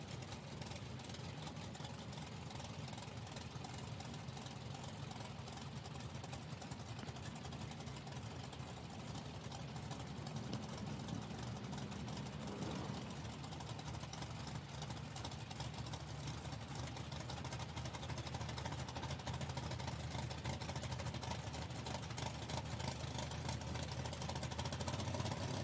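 A 1962 Chevy II drag car idles at an IHRA Outlaw Nitro Series event in Hebron, Ohio, giving a steady, loud, rough engine rumble that holds unbroken for the whole stretch amid open-air track noise.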